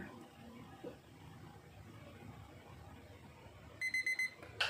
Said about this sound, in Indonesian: akan berbunyi beep ini untuk satu detik